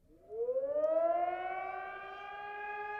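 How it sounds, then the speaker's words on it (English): A civil defense siren winds up from low to a sustained high wail, loud and steady, with no voices. "So, the siren, the threat's real?"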